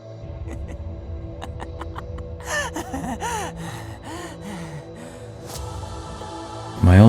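Labored breathing and gasping in the visual novel Tsukihime, with several strained breaths and gasps over a ticking game soundscape, then a sudden loud burst near the end.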